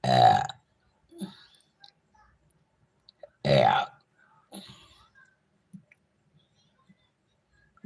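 Two loud, deep burps spaced a few seconds apart during a family livestream, with faint mouth clicks and soft breathy sounds in the quiet between them.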